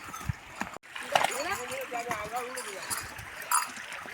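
Water splashes and sloshes as bulls wade into a river, while voices talk and call over the splashing.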